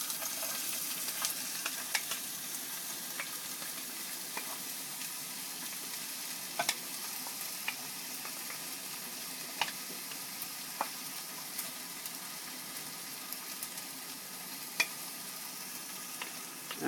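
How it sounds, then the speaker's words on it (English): Onions frying in hot oil in a pan give a steady, close hiss of sizzling with scattered sharp pops and crackles throughout, alone without voices. "we're just gonna push this onions in here"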